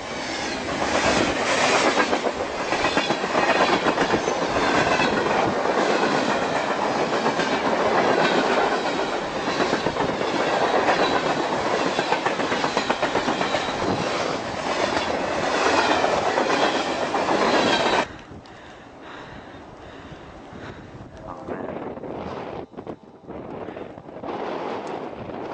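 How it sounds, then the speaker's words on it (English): A long freight train hauling cargo containers and oil tank cars rolls past in Rochester, New York, a loud continuous rumble with clickety-clack of wheels and wind buffeting the microphone, then dropping away sharply to quieter rail noise. "This is a normal train which you see all the time, okay? You got your cargo containers and the oil containers"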